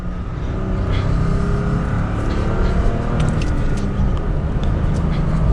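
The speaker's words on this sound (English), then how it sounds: "We'll go all the way down to 2nd gear and just do another acceleration." A manual 2021 Toyota Tacoma TRD Offroad pulls hard in second gear, its engine droning steadily from inside the cab, with constant road and wind noise beneath it.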